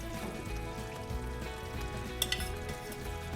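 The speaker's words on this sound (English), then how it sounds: "I'm going to add those soaked raisins in there." Soaked raisins and garam masala frying in a pan with homemade ghee, a soft steady sizzle with a couple of brief stirring clinks, fairly quiet and close, no voices.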